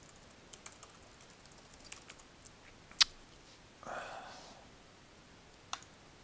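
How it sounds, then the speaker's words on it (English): Faint, sparse clicking of computer keys, a few scattered taps and one sharper click, in a quiet room. "I swear I'm typing things correctly."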